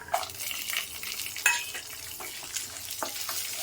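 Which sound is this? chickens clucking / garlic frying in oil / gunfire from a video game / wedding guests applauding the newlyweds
garlic frying in oil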